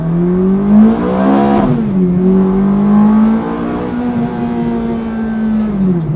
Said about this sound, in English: That traditional flat plane crank V8 engine that Ferraris are so famed for